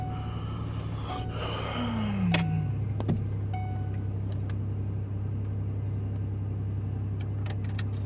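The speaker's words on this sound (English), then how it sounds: "This car starts great in the cold." A car engine starts on a cold morning, a brief rising whine giving way to a steady, close, low idle hum that holds evenly for several seconds with no talking.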